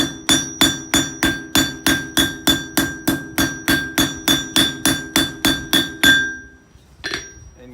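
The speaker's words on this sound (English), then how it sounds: "you're impacting the center and it wants to spread away from where the hammer's striking" Cross peen hammer striking hot steel on an anvil while a hook is forged, a steady rhythmic series of about eighteen loud ringing clangs, evenly spaced and close, ending with a lighter final tap.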